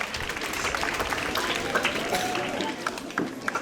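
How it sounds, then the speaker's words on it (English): A classroom group claps for the black team during an abacus activity day, a dense, steady patter of many hands filling the clip at moderate volume without a break. "Let's clap for black."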